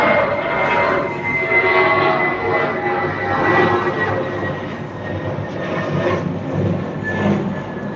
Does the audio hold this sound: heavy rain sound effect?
no